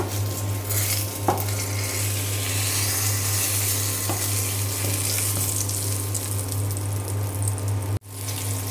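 Eggplant slices frying in a pan give a steady loud sizzle throughout, with a few soft utensil taps, before cutting off abruptly near the end.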